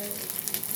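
Food frying until deep red and dry in a pan, giving a steady, close sizzle with crackling pops and bursts of spatter across the whole moment, no voices present.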